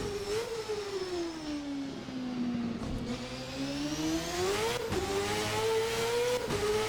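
A 1999 Formula NA race car in a VRC racing simulator revs hard with a buzzing engine note, pitch dipping and climbing through gear changes, a sustained, close and loud drone with no talk.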